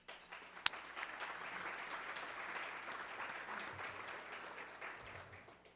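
An audience at a civic forum of the Downtown Commission gives a steady round of applause, dense clapping sustained evenly for several seconds with one sharp louder clap near the start, then tapering slightly at the end.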